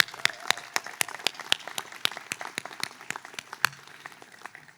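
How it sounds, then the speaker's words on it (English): A graduation ceremony audience applauds the class of 2025, many hands clapping steadily together in a sustained, even round that carries on alone without speech. "let's give the first round of applause of many today to the class of 2025"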